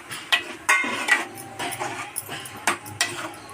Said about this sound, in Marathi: मित्रांनो, आता मम्मी पनीर ॲड करते.